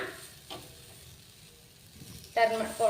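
Beetroot slices frying on a tawa: a soft, steady sizzle close by, swelling into a louder crackle near the end as the pan is disturbed.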